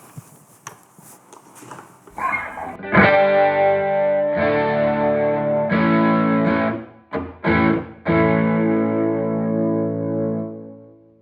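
A distorted electric guitar rings out in sustained, heavily effected chords with chorus-like shimmer, a few choppy stops, then a long fading note.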